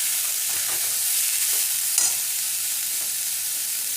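Beetroot for vegetable chops lands in a hot pan and is stirred, a steady close sizzle with soft rhythmic scraping strokes and one sharper clink midway.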